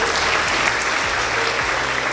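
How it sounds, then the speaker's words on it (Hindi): Brief, dense applause from a student audience at an entrepreneurship event at CIMAGE, an even, loud wash of clapping with a low hum running beneath it. "एक बार धीरेन्द्र तक तालियों की आवाज़ पहुँचे।"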